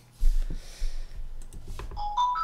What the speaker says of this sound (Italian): Aspetto che il telefonino si cessi.